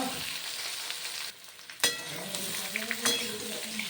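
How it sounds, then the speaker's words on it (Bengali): Sliced potatoes and eggplant fry in oil with a steady sizzle, while a spoon scrapes and clinks against the pan a few times. "হালকা ভাজা হয়ে গেছে আলুর সঙ্গে বেগুনও।"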